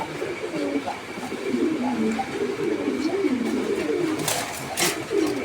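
Imported double-crested pigeons at a busy pigeon market coo in steady, overlapping low rolls, close and fairly loud over a constant crowd murmur, with a few sharper bird calls near the end.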